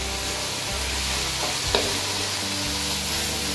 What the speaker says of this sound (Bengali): ভাজা ভাজা হয়ে গেছে আদাটা।